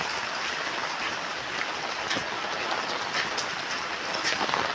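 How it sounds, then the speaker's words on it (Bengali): Steady, dense rain hiss fills the whole stretch during flooding, with occasional brighter drip and splash ticks standing out against the constant wash. "বৃষ্টি পড়ছে দেখো সবাই দেখছো"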